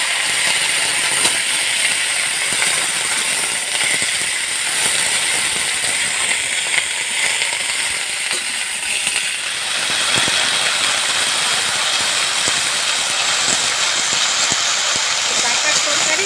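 Bottle gourd stems are dropped into hot tempering spices in a pan and sizzle with a loud, steady hiss that lasts the whole time, close up and without a break.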